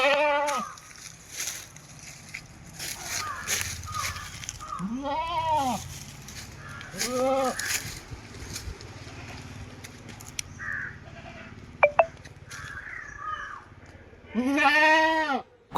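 A milking goat of about 32 kg, kept for sale in Manjeri, bleats several times in close, loud calls spread across the stretch, with quieter farmyard noise and a brief crow-like call between them.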